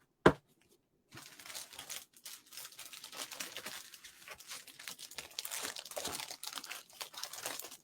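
Glimmer paper for card making crinkles and rustles close by in an irregular, continuous stream after a sharp single tap.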